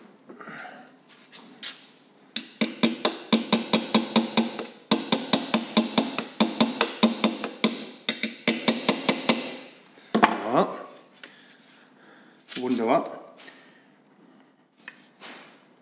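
A rapid series of sharp metallic taps from pliers used as a hammer, driving a metal point into a homemade compass, in two bursts of about a dozen strikes each, close up, followed by a couple of short scraping sounds.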